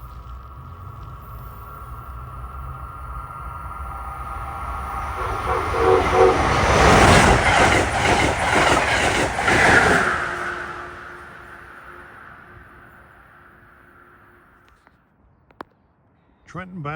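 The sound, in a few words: Amtrak Keystone passenger train passing, cab car first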